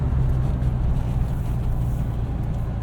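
A modified 1966 Volkswagen Beetle engine drones low and steady while downshifting into a church parking lot, a continuous close rumble from inside the car.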